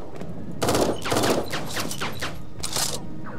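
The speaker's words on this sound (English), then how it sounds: "The turrets are trying to track them," Automated turrets in the game Eden Star fire at enemies in a string of rapid, crackling bursts, two heavier volleys followed by quicker lighter ones. The firing is close and fairly loud over a constant background hum.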